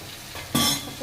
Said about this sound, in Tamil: பழுத்த தக்காளியை 3 தக்காளி அதை கொஞ்சம் வதங்கட்டும்